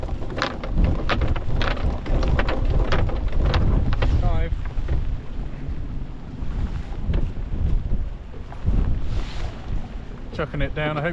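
Heavy squall rain pours down around a boat anchoring at East Head, a dense, steady roar mixed with buffeting wind on the microphone, with a voice heard briefly at the start and end.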